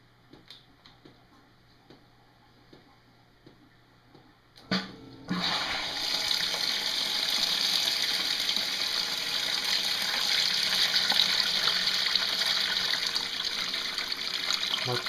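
A small pump filling a homemade portable shad livewell for a small boat, a soft ticking and trickle at first, then a sudden steady rush of spraying water that stays loud and constant, close by, with no talk.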